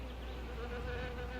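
Bees held in a box buzz in a steady, close, continuous drone, slightly wavering in pitch, with no voices.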